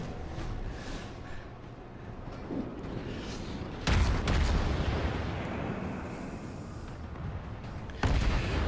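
Heavy naval gunfire from the USS Baltimore cruiser in World of Warships booms out in a few deep, loud blasts spaced several seconds apart, each followed by a rumbling decay.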